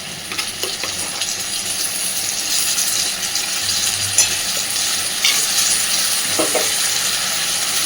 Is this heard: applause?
no